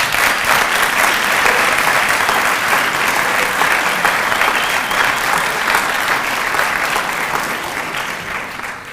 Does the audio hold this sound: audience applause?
yes